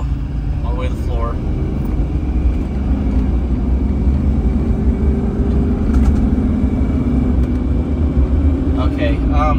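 Duramax diesel pickup with a fuel rail pressure problem runs at full throttle, a loud, steady low engine roar that builds slightly, with someone talking over it.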